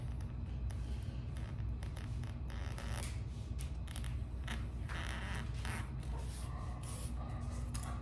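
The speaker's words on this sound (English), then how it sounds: "we'll go right back through and cut this down" Foam is cut down for a Haunted Mansion display, giving a steady close scraping and rasping with short bursts of sharper slicing strokes.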